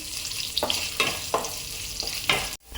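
Chopped onions frying in a pan for egg pulao, a soft steady sizzle broken by several distinct stirring scrapes at close range, then a sudden drop near the end.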